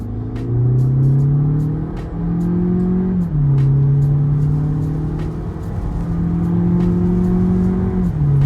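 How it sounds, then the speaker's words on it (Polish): A 2021 Audi Q3 1.5 TSI S-Line engine revs hard accelerating from standstill to 100 km/h, climbing in pitch, dropping briefly at each gear change before rising again, loud and steady throughout. "Zrobimy sobie takie przyspieszenie od 0 do 100 powiedzmy"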